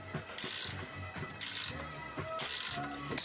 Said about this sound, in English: your ratchet's actually gonna loosen